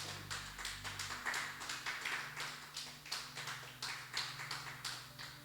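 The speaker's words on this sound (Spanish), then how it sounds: "¿Le puede dar un fuerte aplauso a Jesús?" A church congregation claps together in steady rhythmic beats during a worship service, sharp and regular over a low sustained organ or keyboard drone, with no talking.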